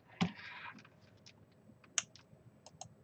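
A few scattered keyboard key clicks as a container name is typed, faint and irregular with quiet gaps between presses, no talking.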